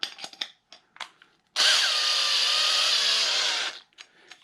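A Black & Decker power drill spins a hole saw in a loud steady whine lasting about two seconds, with brief knocks and handling sounds before and after.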